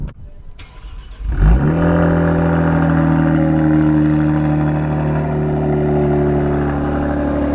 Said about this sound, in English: if you want to hear what a Borla custom exhaust sounds like for the Stinger, here you go